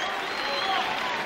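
Basketball crowd at a Canberra Cannons versus Brisbane Bullets game, cheering and applauding in a steady, dense roar that fills the whole moment, with commentators' voices running over it.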